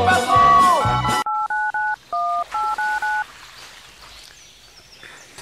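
Telephone keypad tones dialing a number before a call, a quick series of about eight clear DTMF beeps in an uneven rhythm after a brief burst of other sound, then fading to a faint ringing line.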